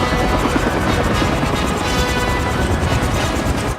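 Six UH-60 Black Hawk helicopters thunder overhead as a loud, continuous throbbing rotor wash, the rapid blade chop steady and dominant throughout, with no talking.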